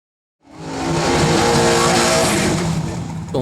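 A Shelby GT500 launching down a drag strip on a clean pass, the engine note swelling from silence into a loud, sustained roar with tire noise close by, no talk.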